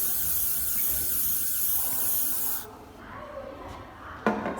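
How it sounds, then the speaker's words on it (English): Hairspray hisses from a can in a long, close, steady burst over hair buns, stopping abruptly and followed by quieter handling sounds and one short final spritz. "I'm just going to give each Bunchy a load of hairspray."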